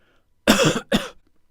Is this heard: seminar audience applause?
no